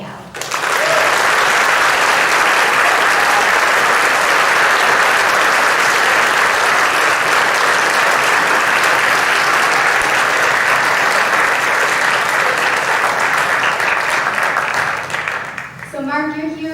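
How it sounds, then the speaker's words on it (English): A large crowd at a debate contest breaks into loud, continuous applause that rolls on for many seconds, fading near the end as a speaker's voice comes in. "let's have a huge round of applause for Mark Bland and Rudy San Miguel"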